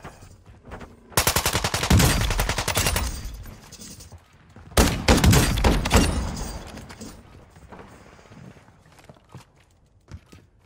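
Bursts of rapid automatic gunfire in Call of Duty, two long volleys with a pause between, then quieter scattered shots and rustling.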